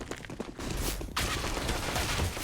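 An RPK machine gun fires in the Counter-Strike video game, with loud dense bursts of gunfire cracking continuously over a busy match background.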